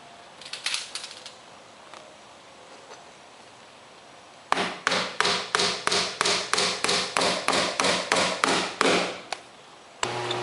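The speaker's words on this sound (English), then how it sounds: "and nail it in place." Nails hammered into garage door seal molding along the fascia, a few light taps followed by a quick run of about fifteen evenly spaced, sharp, close hammer blows.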